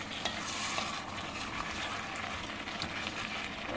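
Cioppino, an Italian seafood soup with carrots, is stirred in a pot, giving a continuous soft scraping and bubbling sizzle at low volume with no voices.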